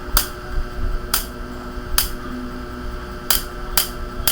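Electric mosquito racket crackling as it sparks, five loud sharp snapping discharges at irregular intervals over a steady electrical hum, close by with no talking.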